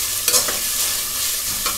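Onions stirred and sautéed in a pan with garlic paste, a loud close sizzle under quick scraping strokes of a spatula, steady throughout with a few sharper scrapes.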